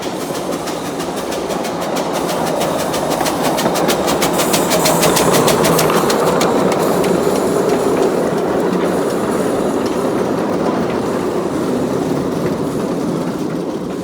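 Loud, continuous rumble of a steam museum railway train racing past the sheds, with rhythmic clickety-clack of the wheels over the rails and no talk.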